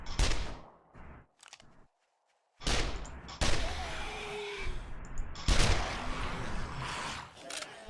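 Gunfire from a firearm in the video game 7 Days to Die, loud bursts of rapid shots after a brief quiet gap, continuing in dense volleys.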